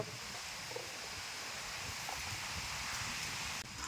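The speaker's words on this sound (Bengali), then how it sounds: "বৃষ্টি চলে আসছে আবার মুশকিল দেখো হাওয়া উঠে গেল" A steady, broad hiss of wind-blown rain and rustling fills the air evenly, with no voices and only faint soft knocks.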